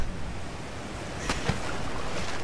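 Water in the video game The Cave makes a steady, loud rushing wash, like surf, with a couple of brief splashes partway through.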